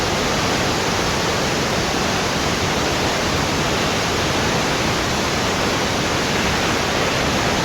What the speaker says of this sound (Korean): 폭포가 정말 땅을 뚫을 듯이 이렇게 쏟아집니다